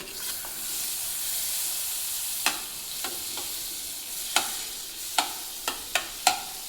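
Butter melts in a hot pan for cheese pasta, giving a continuous close sizzle and hiss broken by a series of sharp spoon taps and scrapes against the metal toward the end, with no one talking.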